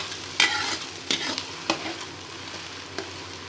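Finely chopped onion frying in hot oil for a chickpea curry, a soft steady sizzle with a few sharp stirring scrapes, fairly quiet and close, with no talking.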